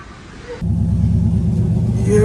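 A stock Toyota Supra rolls past outside a Starbucks, its engine rumble rising suddenly and holding close and loud to the end.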